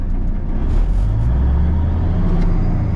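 A 1983 mechanical Cummins 350 engine in a cabover truck rumbles loud and close, a deep steady drone that settles back down from a rev.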